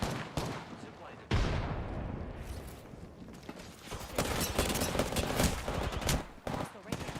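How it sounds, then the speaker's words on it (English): Rapid bursts of automatic gunfire from the battle royale game Apex Legends crackle in clusters, with sharp onsets, a short lull, and denser volleys toward the end, mixed with game effects. "The enemies are shooting at me."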